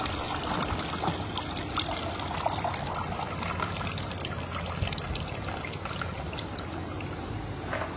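Water drains and trickles steadily off a pickle of chillies, lemon and mango, a continuous close pouring and dribbling sound with no talk.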